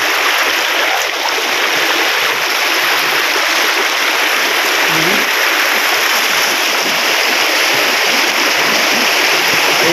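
A river flowing steadily in a rural mountain province, a continuous broadband rush of water close by, unbroken and even throughout with no voices.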